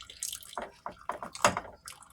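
Hot potato cooking water is poured off from a pot in a home kitchen, coming as a few short splashing gushes and drips, close and fairly quiet, with no talking.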